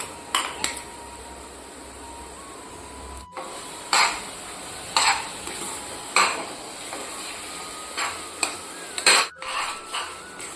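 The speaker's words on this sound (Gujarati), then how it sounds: "હવે તેની અંદર જે આ મરચાંની પેસ્ટ આપણે કરી હતી તે પણ નાખી બધું જ મિક્સ કરી લઈશું" Garlic and chili paste being stirred in a pan for spicy Kathiyawadi garlic chutney, with a steady soft background and a series of distinct scraping, clinking spoon-against-pan strokes at irregular intervals, no talking.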